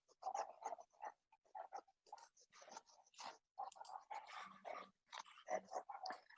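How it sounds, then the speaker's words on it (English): Dogs outside barking and yapping back and forth in short irregular bursts, faint and distant, with no talk. "I apologize ahead of time if you hear my dog start barking because there is something, all the dogs outside are talking to each other"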